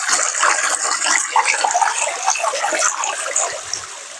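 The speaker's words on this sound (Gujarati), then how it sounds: "પાણીનો અવાજ આવે છે" A jungle stream flows steadily, a loud, continuous broadband rush and gurgle of water running close by with no pauses and no talking.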